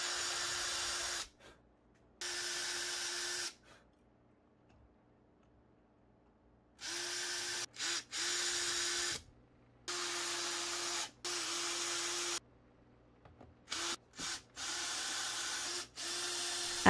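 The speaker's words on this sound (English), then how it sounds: "it's time to start screwing on the legs" Power drill driving screws to attach furniture legs to metal mounting plates, heard as repeated bursts of high whirring of one to two seconds each, separated by silent pauses, loud and close with no talk.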